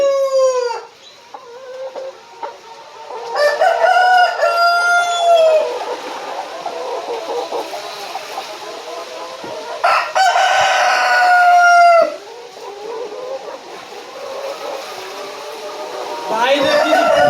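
Chickens and a rooster are heard at close range, with a loud crow drawn out over several seconds and another later on, separated by softer clucking and background noise.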